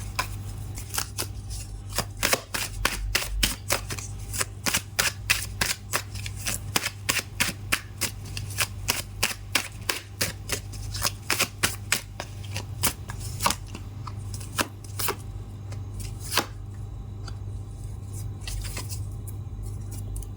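Tarot cards are shuffled by hand in quick, steady bursts of crisp riffling and snapping for about twenty seconds, with a low constant hum beneath and no talking.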